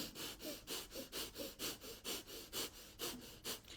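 Shallow breathing, a steady series of about a dozen quick, close breaths with short rhythmic rushes of air, heard alone.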